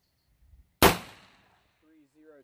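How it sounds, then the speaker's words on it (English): A rifle bullet strikes a distant target at 400 yards, heard as one sharp, loud crack that decays over about half a second, with a brief voice afterward. "what that thumping noise was, that's the target at 400 yards"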